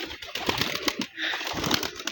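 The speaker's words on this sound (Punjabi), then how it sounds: "ਇਹ ਚੈੱਕ ਕਰੋ ਆਪਣੇ ਪੁਰਾਣੇ ਕਬੂਤਰ" Older pigeons in a loft coo softly and continuously, their layered murmuring calls close by, with light rustling and movement mixed in and no talking.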